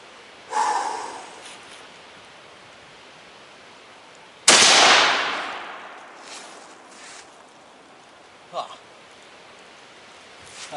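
A single loud, sharp blast of a .50 caliber Raufoss round fired at a 2 inch steel plate outdoors cracks out, followed by a decaying roar against steady wind noise, with fainter thumps before and after.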